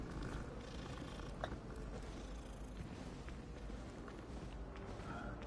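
Cat purring in Hogwarts Legacy, a soft continuous low rumble heard closely and faintly, with no other clear sounds.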